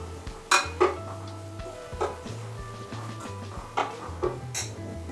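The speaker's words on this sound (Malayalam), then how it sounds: "1 സ്പൂൺ മല്ലിപ്പൊടി, ഇട്ടൊന്ന് ഇളക്കാം." A spoon scrapes and clinks against a pan as coriander powder is stirred into a homestyle Kerala fish curry, with sharp metallic knocks at irregular intervals over a low steady hum.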